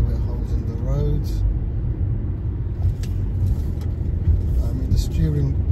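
A 2008 BMW 730d Sport with an automatic gearbox and a 3.0 diesel of more than 200 brake horsepower drives through bends. A steady low engine and road rumble holds throughout, with faint tonal sweeps as it changes speed.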